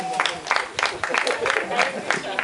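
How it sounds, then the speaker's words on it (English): Audience clapping at a luncheon for Kenyan and Nigerian actors, a rhythmic burst of hand claps that sounds fairly close, with voices in the room talking over it. "give a clap."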